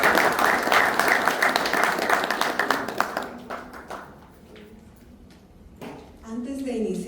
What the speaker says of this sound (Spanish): Un aplauso a la maestra de ceremonia.